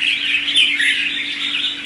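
A songbird offered for sale sings a steady, bright stream of chirps and warbles, loud and close, with a low electrical hum underneath.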